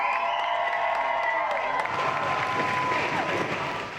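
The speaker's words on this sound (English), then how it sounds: "You can't take down a house without some cheering, right?" Extreme Makeover Home Edition volunteers cheer and whoop before tearing down a house in Savannah, a sustained outdoor crowd roar with scattered clapping and shouts that fades slightly at the end.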